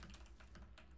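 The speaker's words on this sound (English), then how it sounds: "Sounded like a bit of a keyboard." Brief burst of computer keyboard typing inside a video game, a few quick faint clicks heard alone over a low steady hum.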